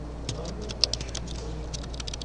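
Keys on a worn computer keyboard patter in quick, light clicks with a sharper tap near the start, close and fairly quiet, while a person speaks in the background.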